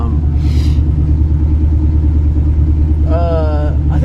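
A 1967 Chevy C10 truck engine idles at a raised speed after an idle screw adjustment, a loud steady low rumble close by, with brief voice-like tonal sounds over it.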